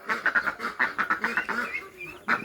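A rapid run of nasal quacks in a steady rhythm, close and fairly loud, followed by a brief pause and one last quack.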